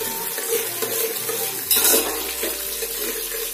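Green chillies go into a pan over a high gas flame, with a continuous frying hiss, stirring sounds and a brief louder burst of sizzle partway through.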